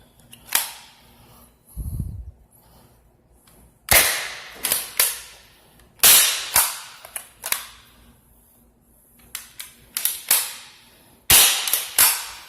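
Nerf Rival Knockout XX-100 blaster firing foam balls, about eight sharp, loud snapping shots in irregular pairs and singles, each with a short decay, plus a faint low thump early on and no voices.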